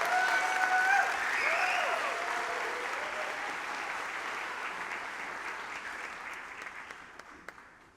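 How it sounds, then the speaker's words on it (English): Audience applause for the Bonita High School Chorale at a spring concert, a dense burst of clapping that gradually thins and fades over several seconds, with a few scattered claps at the end. "Let's give a round of applause to the Bonita High School Chorale."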